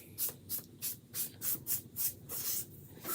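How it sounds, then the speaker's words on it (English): Quick spritzes from a spray bottle land on a board or foam brush for chalk art: about eight short, sharp hissing bursts in a steady rhythm, close and clear. "we're just going to give it a quick spritz"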